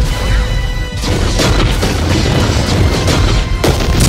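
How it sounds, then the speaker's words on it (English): Loud, dense booming from a string of movie explosions of mines dragged by a ship, rumbling continuously with heavy low-end crashes and a couple of sharper blasts. "Look at all these explosions."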